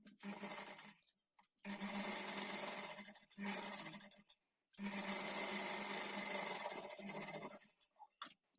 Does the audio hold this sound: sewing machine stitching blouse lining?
yes